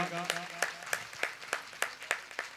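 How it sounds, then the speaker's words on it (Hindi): Sparse, rhythmic hand claps from an audience at a Bhagavat Katha religious gathering, roughly evenly spaced, with a brief spoken voice at the start. "जरूर तालियों से स्वागत जरूर करिएगा"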